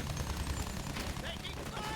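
Battlefield 1 battlefield gunfire, a dense rattle of shots and distant booms packed together in a busy, noisy mix beneath a speaking voice.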